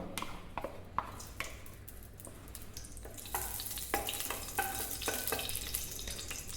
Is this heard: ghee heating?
yes